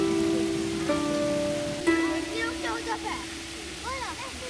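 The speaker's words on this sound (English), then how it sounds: "The sound of cascading water had a pleasant cooling effect on a warm day." Water cascades steadily in a Japanese garden on an island in a Budapest park, a broad continuous rush under tonal sounds and a voice speaking throughout.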